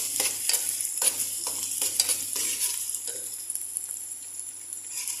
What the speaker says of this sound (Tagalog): Ayan po, igisa muna natin ito.